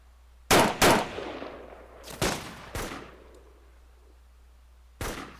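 Gunfire from a survivor group in BreakingPoint: several sharp shots crack out, two quick ones close together, then spaced single shots, each loud with a short echoing tail and no talk.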